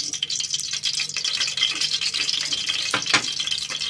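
Chopped onions fry in a large pot of hot oil, heard as a close, crackling sizzle with a few sharper stirring scrapes near the end. No voices are heard.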